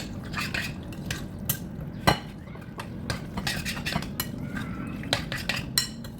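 Three egg yolks stirred with black pepper in a bowl, a utensil clinking and scraping against the sides in quick, uneven strokes at close range, with one sharper knock.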